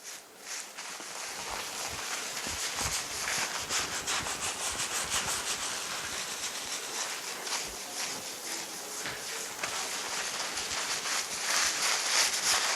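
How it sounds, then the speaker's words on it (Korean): Hands lathering shampoo through hair and down to the scalp, a continuous close, wet scrubbing and rubbing sound with steady rhythmic friction and no talking. "전체적으로 두피까지 충분히 거품이 날 수 있는 데까지 계속 핸들링을 해주시고요"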